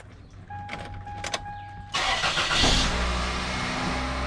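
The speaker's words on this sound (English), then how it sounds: "So I'm going to be starting up the vehicle." A 2002 Toyota Corolla cranks and fires up close by after a few soft clicks, settling into a steady idle.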